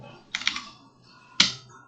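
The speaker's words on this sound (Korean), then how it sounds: "근데 이 상태에서 엔터 쳤을 때" Keys tapped on a computer keyboard while entering a sudo command, a quick cluster of three light clicks followed after a pause by one sharper, louder keystroke, with nobody speaking.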